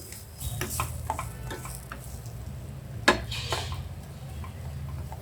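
Semolina mixed with beetroot juice is stirred in a pan with light, uneven scraping strokes over a faint low sizzle, plus one sharp clack of metal partway through, and nobody speaks.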